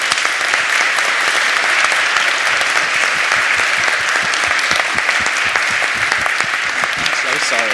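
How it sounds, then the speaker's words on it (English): Sustained audience applause fills the room at the close of a children's education-track show and tell at a Python programming conference, a dense steady clatter of many hands throughout with no pause. "Can we give these people a round of applause?"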